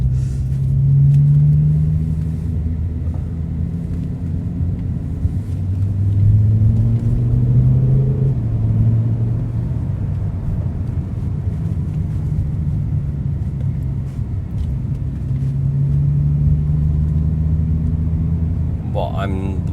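A BMW S85 V10 car fitted with a DCT transmission swap, cruising gently in normal driving with a steady low engine drone that swells and eases, heard from inside the cabin.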